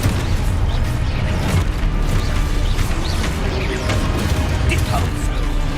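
A Confringo fire blast spell is cast in Hogwarts Legacy on PS5: loud, dense booming bursts with crackling over a steady roar of game effects, continuous for the whole stretch.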